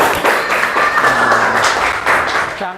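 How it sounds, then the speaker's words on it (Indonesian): Applause breaks out in a classroom for two students after a coding and computational-thinking activity, a steady burst of clapping lasting a few seconds, with voices and chatter mixed in. "Tepuk tangan untuk teman kita, Fatma dan Dwi."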